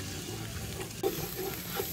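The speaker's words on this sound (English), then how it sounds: "You can hear we're almost frying again." Meat for a bolognese sizzles in a pan, a soft, steady frying hiss with a few stirring scrapes and a light clunk midway, close and unaccompanied by talk.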